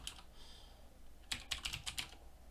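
Fingers type on a computer keyboard while coding HTML, first with a faint stretch of key sounds and then with a quick cluster of about six crisp, close clicks.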